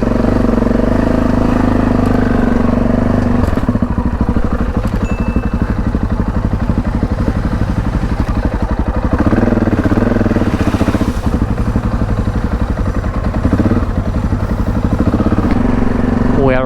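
A motorcycle rides the Trans Euro Trail in the Netherlands toward Belgium, its engine a loud, steady drone with rhythmic pulsing and wind buffeting throughout, and a rider's voice at times.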